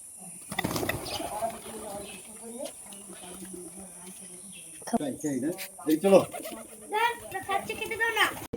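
Pigeons being fed coo softly nearby, low murmuring coos mixed with people talking and some bird chatter.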